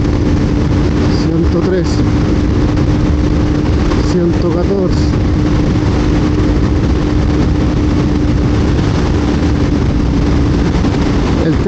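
A KTM Duke 200 naked motorcycle engine drones steadily at speed, with constant wind rush over it, while a rider talks throughout.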